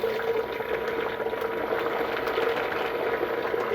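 A lab mixer runs at 1100 RPM with water in it for a Sudan Red test, giving a steady, dense churning and whooshing hum that holds level throughout with no talking.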